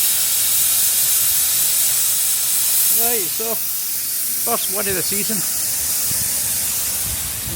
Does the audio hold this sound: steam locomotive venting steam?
yes